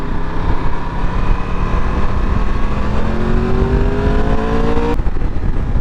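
A torquey motorcycle engine, a BMW S1000XR or Triumph Tiger 1200 Rally Pro, revs steadily upward under load, its rising pitch holding for several seconds before abruptly cutting off near the end.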